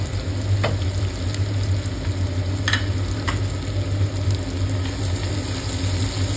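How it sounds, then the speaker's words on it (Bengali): Chopped onions, one large and half a medium, fry in a pan until reddish and soft. A loud, continuous sizzle runs close throughout, broken by a few sharp scraping clicks from stirring, with no voices. "পেঁয়াজটা এবার একটু ভালো করে আমি লাল লাল করে ভেজে নেব"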